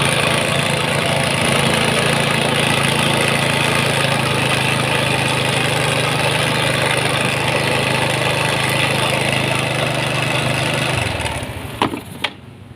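A Yamaha Mio scooter engine idles steadily without throttle, a close continuous low hum and rattle that cuts off near the end, followed by a few clicks.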